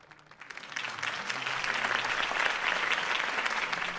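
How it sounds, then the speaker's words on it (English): Crowd applause in the Telltale Batman video game, swelling from a quiet start into steady, dense clapping that holds loud after a campaign speech, with faint background music underneath. "could have heard that applause"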